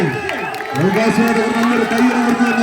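A crowd at an all-Kerala tug of war tournament cheers and claps for a team, a broad roar under a loud announcer's voice over a public address system.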